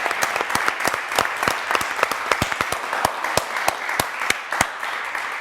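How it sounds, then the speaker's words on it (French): A television game show audience applauds steadily, many hands clapping in a dense, even burst that continues throughout. "on peut encore applaudir pour vous, Daniel."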